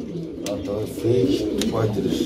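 A Red Tiger pigeon coos in low repeated phrases close by, with someone talking over it.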